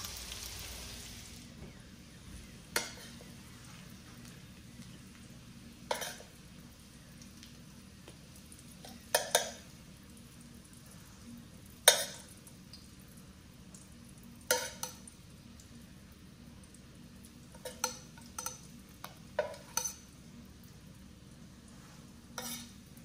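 Ravioli frying in brown butter with crispy sage, being flipped to crisp up: a low, steady sizzle runs throughout, punctuated by a series of sharp clinks and scrapes from the pan at irregular intervals, with no talking.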